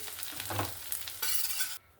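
Shrimp fritters made from small chopped prawns frying in a pan of oil, a steady close sizzle with stirring and scraping sounds that swells louder toward the end before cutting off abruptly.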